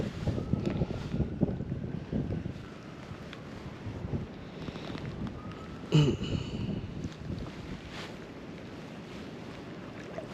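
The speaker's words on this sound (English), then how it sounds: "I'm throwing on this little bit heavier outfit because I have some wind" Wind on a lake during fall kayak fishing in New Jersey, a steady low rushing buffet against the microphone with gusts throughout and a brief bump midway.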